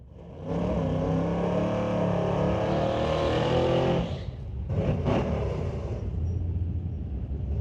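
An LS-powered 1988 square-body S10 drag race car roars loudly at a drag strip, its engine rising and falling, then a few sharp revving bursts follow as the sound fades.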